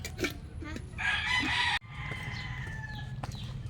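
A rooster crows loudly up close at breeding pens, followed by scattered clucking from hens and faint background birds.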